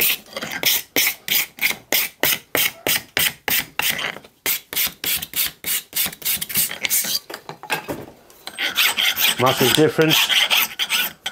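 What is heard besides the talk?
metal file filing brass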